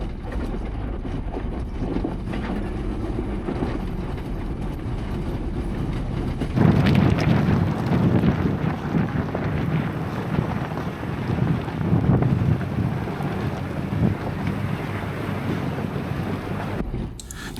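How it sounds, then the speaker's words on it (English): Strong wind buffets a high-elevation mountain summit near a parking area, a loud, constant roaring rush with heavy gusting against the microphone that swells noticeably partway through and stays dense, with no voices. "it's always going to be windy up here at these high elevations"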